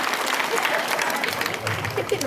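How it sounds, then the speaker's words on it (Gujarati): A dense burst of audience applause at a stage function, steady and fairly loud for about two seconds, with voices mixed into the clapping. "બજાવ તાળીયા"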